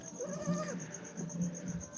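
Goats on a goat farm give a few short, close bleats, one wavering call followed by quieter ones, over faint insect-like background hum.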